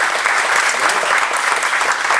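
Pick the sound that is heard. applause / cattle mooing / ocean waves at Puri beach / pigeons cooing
applause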